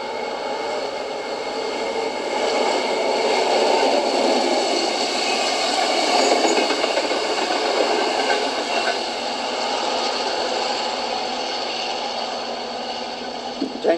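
The Westlander, a Queensland Rail long-distance passenger train, arriving along the tracks with a steady rumbling roll and engine drone that swells and fades slightly over a long, continuous pass, with no talk.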